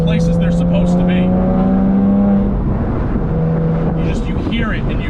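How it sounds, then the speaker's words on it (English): Drivetrain of a 2006 Porsche Boxster S shifting through gears, with steady engine tones that step down partway through, close and loud, under a constant hum of road and mechanical noise. "You can hear the mechanics, the mechanical parts of the transmission going into the places they're supposed to be."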